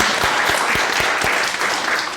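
Church congregation applauding during a Sunday worship service, a loud, dense and steady wash of many hands clapping in a reverberant room, with no talking.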